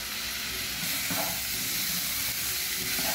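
Rice tipped into a pan of sautéed garlic and onion hisses with a constant, fairly quiet sizzle, with a couple of faint stirring scrapes and no talking.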